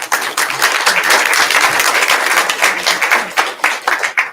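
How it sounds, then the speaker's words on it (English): Audience applause at a community genealogy lunch gathering, honoring two speakers including a Muscogee Creek Freedmen Coalition chairman from Okmulgee, Oklahoma; dense, steady clapping from many hands fills the room for several seconds. "Please give a round of applause for both of them."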